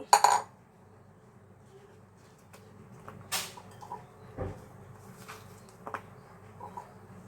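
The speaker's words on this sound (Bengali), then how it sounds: "এখন এই সব আলু আমি একটা কন্টেনার ভিতর দিয়ে দেব।" Cut potatoes for French fries tumble into a container with a quick clattering burst up close, followed by scattered soft knocks and clinks of handling in an otherwise quiet room.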